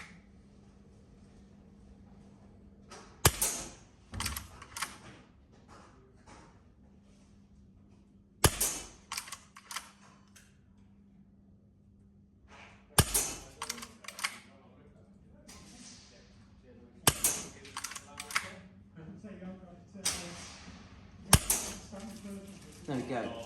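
G&G LevAR 15 6mm under-lever airsoft rifle firing indoors: sharp, close snapping shots in small clusters spaced several seconds apart, with lever-working clicks between them and a low steady hum underneath.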